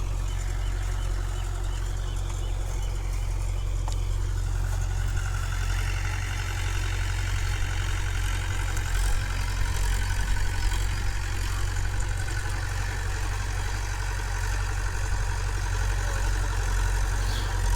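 A 2000-model Mahindra 575 tractor fitted with a 9-tyne cultivator runs at 1500 RPM, its diesel engine giving a steady, deep rumble that holds constant with no talk over it.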